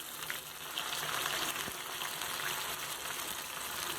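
Masala-coated vela meen fish fillets frying in hot oil in a pan, a steady dense sizzle with fine crackling spatter that holds at an even level throughout, close by with no voices.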